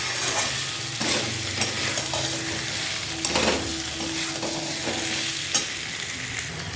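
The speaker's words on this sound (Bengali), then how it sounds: "এবার এই যে ভেজে রাখা সবজি, পটল, মাছ, ক্যাপসিকাম সব একবারে দিয়ে দিলাম। এটাকে একটু কষিয়ে নিই।" Pointed gourd, shrimp and capsicum sizzle and crackle steadily in hot oil in a pan, with a spoon scraping and stirring at intervals, close and fairly loud, no voices.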